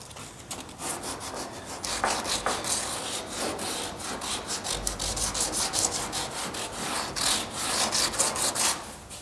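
A car body panel edge on a GTO restomod is hand-sanded with 220-grit paper under the thumb in quick rhythmic back-and-forth strokes, a close, steady raspy scratching.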